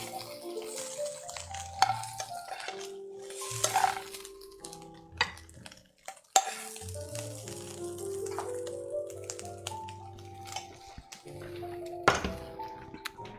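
Shrimp go into a hot pan and are stirred, a low sizzle running under repeated thunks and scrapes of a utensil against the pan, with a few sharper knocks along the way.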